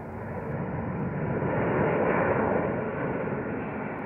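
A Boeing 747 air tanker jet roars overhead, a broad steady rumble that swells toward the middle and eases slightly, with no voices.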